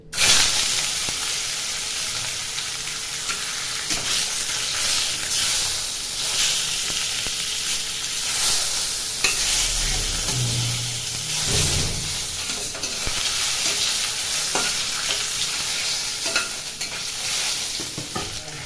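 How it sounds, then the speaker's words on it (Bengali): Kanla fish slide one by one into hot oil in a kadai and sizzle steadily, with scraping stirs and occasional spatter over a continuous frying hiss; no one speaks. "এখন একে একে মাছগুলি এই কড়াইতে দিয়ে দেবো"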